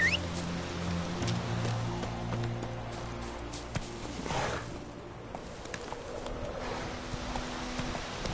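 Roach, the horse in The Witcher 3, runs with a steady stream of hoofbeats under continuous game ambience and music, with faint bird calls at moments, and nobody speaks.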